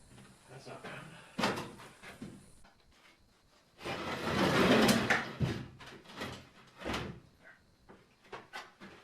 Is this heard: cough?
no